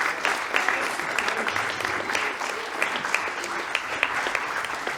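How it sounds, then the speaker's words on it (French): An audience applauds the teachers at a June 2020 graduation ceremony for final-year secondary students, with steady, dense clapping from a crowd filling the whole stretch and a few faint voices underneath. "vous pouvez déjà applaudir les autres professeurs"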